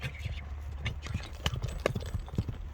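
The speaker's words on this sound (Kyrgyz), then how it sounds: "Атты бир оңго солго буруп койчу." Hooves of a horse clip-clop on the ground as it is turned left and right during a horse-game event, steady nearby steps with people talking over them.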